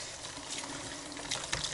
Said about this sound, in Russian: Это уже нагреватель, уже вода пришла, уже с пеной сейчас тоже будет идти.